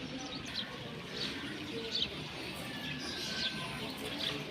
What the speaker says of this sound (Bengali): দেখার মতো কবুতর।